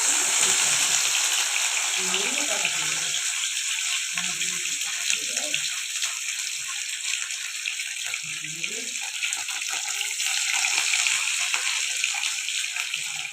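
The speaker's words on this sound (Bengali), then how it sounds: "এবার মাছটা ভাজবো।" Fish frying in hot oil in a wok, a continuous bright hissing sizzle held steady throughout, with a voice speaking faintly underneath at intervals.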